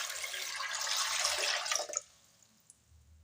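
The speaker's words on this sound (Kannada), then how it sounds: "ಈಗ ನೀರು ಮುಳುಗಷ್ಟು ನೀರು ಹಾಕಿಡನ್ರಿ" Water poured into a cooking pot to cover soaked peas, a steady close splashing pour for about two seconds that stops abruptly, followed by quiet with one faint drip.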